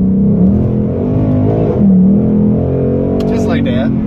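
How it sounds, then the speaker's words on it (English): A Ford Mustang with a 10-speed automatic and paddle shifters hums steadily from inside the cabin, its engine note dipping and rising through quick gear changes while someone talks over it. "The shifting, you hit these paddle shifters, it is in your seat."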